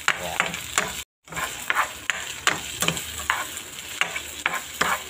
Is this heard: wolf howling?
no